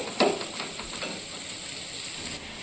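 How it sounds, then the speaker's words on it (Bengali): Chow mein noodles frying in a pan, with a steady close hiss of sizzling oil and a few quick stirring scrapes near the start, with no talk. "চাউমিনটা কিন্তু আমার একটু ভাজা ভাজা আমি হতে দিয়েছি"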